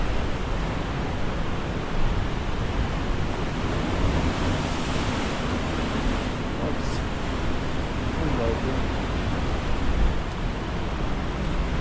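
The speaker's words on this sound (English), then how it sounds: "So the waves, they are scary." Ocean waves crash against the rocky shore at Migra l-Ferha, Malta, in force 8 winds, making a continuous loud roar of surf mixed with heavy wind buffeting the microphone, with no clear pauses.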